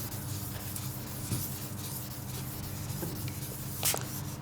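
Steady, quiet wet sanding on a Renault Clio headlight with sanding lubricant, an even rubbing scrape with a few slightly louder strokes and no talking.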